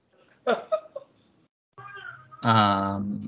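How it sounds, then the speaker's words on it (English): A cat meows close by in a short drawn-out cry near the end, after a few brief high vocal sounds and a pause. "Is that kitty meow?"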